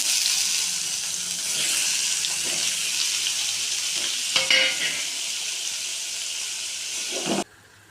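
Paneer cubes fry in a spoonful of oil over a low flame with a continuous bright hiss and a few faint stirring scrapes, then stop abruptly near the end; no talking.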